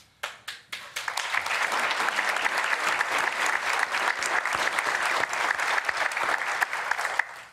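Press club audience breaks into a round of applause, a few sharp separate claps building quickly into sustained, dense clapping that holds steady for several seconds before stopping abruptly.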